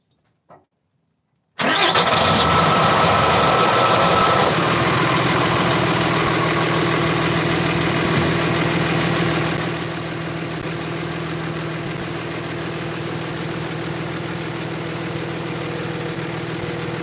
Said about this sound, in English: so I'll start the truck